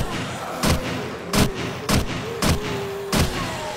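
MG4 machine gun in the game 7 Days to Die, five heavy separate shots at uneven intervals, each a loud broadband blast, over a steady background rumble.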